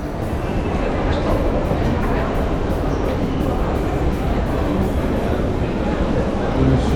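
A Munich S-Bahn train runs with a steady, loud rumble and rushing noise, continuous throughout with faint rhythmic rattling.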